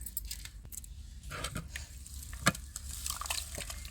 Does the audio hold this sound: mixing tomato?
yes